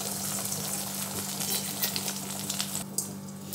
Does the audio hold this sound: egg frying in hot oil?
yes